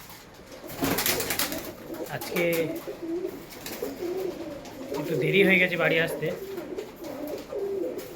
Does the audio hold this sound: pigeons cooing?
yes